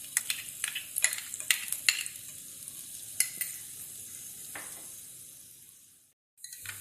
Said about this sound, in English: So now we have to add 1 spoon of chopped garlic.